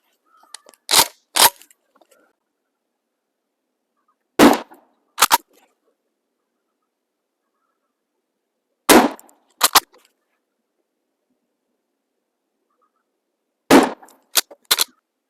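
A Maverick shotgun fires outdoors in four spaced pairs of sharp, loud blasts, each pair followed by quiet.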